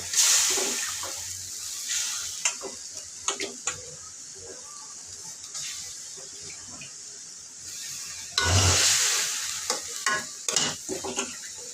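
Hilsa fish sautéing in a pan, with steady sizzling and a handful of stirring scrapes and clinks. A louder burst of frying comes near the end, with no talk over it.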